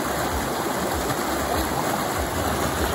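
River water rushes steadily at a waterfall during a family outing, a dense, continuous close-up wash of flowing water with no talk over it.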